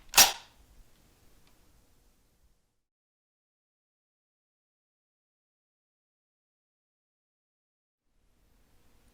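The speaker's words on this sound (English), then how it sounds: "Pull the charging handle back with the right hand to stop and then release." A sharp metallic clack from an SKS carbine's charging handle being pulled back to its stop and released, one brief close snap at the start followed by near silence.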